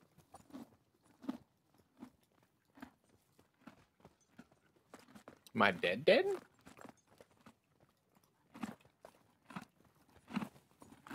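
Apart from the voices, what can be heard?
horse munching food in a video game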